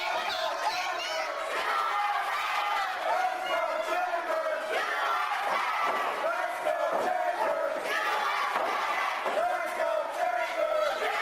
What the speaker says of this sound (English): Listen to the audience.